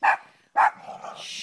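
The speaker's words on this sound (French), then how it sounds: "Mais Popo, arrête d'aboyer, loulou" A dog gives two sharp, close barks about half a second apart, followed by faint low whimpering and rustling noise.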